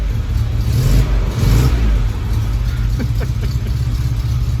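A car engine revving while driving on the road, a loud mid-pitched engine note rising and falling close by, with a rev climb near the end.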